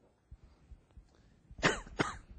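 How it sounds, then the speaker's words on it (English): A man coughs twice in quick succession, close and fairly loud, after a few faint throat sounds. "I can't even say it with my cough"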